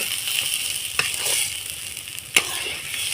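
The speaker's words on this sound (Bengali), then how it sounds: "এইভাবে আমি অনাবৃত নেড়ে যাবো যতক্ষণ না জলটা শুকিয়ে আসছে" Taro paste stirred with masala in a pan for a prawn kochu bata dish, its water cooking off: a steady close sizzle with a couple of sharp spatula scrapes.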